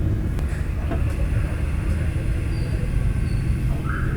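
A Maruti 800 drives in third gear through a snowstorm on a Ladakh road at night, heard from inside as a steady low engine drone and road rumble with constant wind noise.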